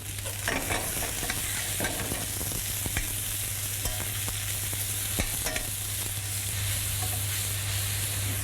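Peppers and shallots sizzle and caramelise in a pan, with an even, continuous frying hiss punctuated by frequent stirring clicks and scrapes close by, with no voices.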